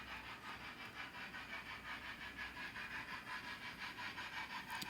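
A Hornby J50 model steam locomotive runs on a layout with a steady, rhythmic chuffing hiss from its onboard sound, close and continuous throughout.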